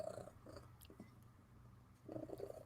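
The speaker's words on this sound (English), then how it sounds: "You do hear a cat purring, Psycho Cat." A cat purrs right beside the microphone indoors, a soft rumbling drone that swells in bursts at the start and end and fades in between, with no one talking.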